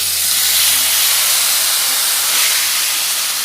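Masala-marinated chicken hitting hot oil in a pan for a chicken masala, a loud, close, continuous hissing sizzle that holds steady throughout.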